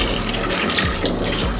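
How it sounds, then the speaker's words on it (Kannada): Water pours steadily from a tap over split lima beans in a cooking pot, a continuous close rushing splash with no voices. "ಇದು ಮುಳುಗೋ ಅಷ್ಟು ನೀರು ಹಾಕೊಳ್ಳೋಣ."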